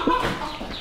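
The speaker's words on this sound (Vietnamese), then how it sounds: "Đóng cửa bắt gà trong nhà." A chicken clucks sharply once, close by, while being caught indoors, followed by faint rustling.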